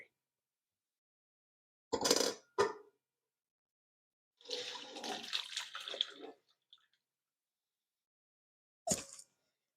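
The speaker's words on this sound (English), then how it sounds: "all I'm doing is just making sure all of the liquid goes through the sieve" Gravy liquid from a prime rib roast, flavored with thyme and rosemary, is poured through a kitchen sieve: two short splashy bursts, a longer trickling pour, then one final brief splash, close and moderately loud.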